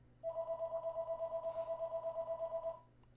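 A house landline telephone rings in one continuous trilling burst of rapid regular pulses for about two and a half seconds, clear and nearby, then stops.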